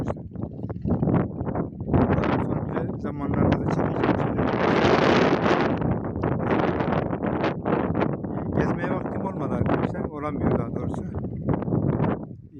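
Cold November wind buffets the microphone outdoors in Kilimli, Turkey, a loud, constant rushing roar with gusty swells that nearly drowns out someone talking throughout.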